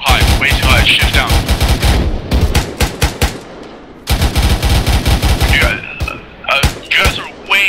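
Heavy gunfire in a military video game, dense rapid bursts of automatic fire and single shots overlapping, loud and close, with a brief lull before the shooting resumes, radio chatter faintly underneath.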